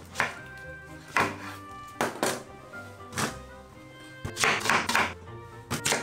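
A knife chops through two peeled onions to quarter them on a cutting board, giving about eight sharp, close thunks at irregular intervals with quiet pauses between.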